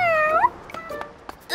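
A cartoon cat in an animated series gives a single clear, rising meow up close, followed by a few soft clicks and faint background noises.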